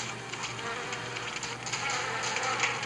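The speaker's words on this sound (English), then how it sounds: "we are being chased by a bunch of bees" A swarm of bees chasing the player in the Phineas and Ferb: Across the 2nd Dimension video game, a steady, dense electronic buzzing that holds at moderate level and swells slightly toward the end, with no talk.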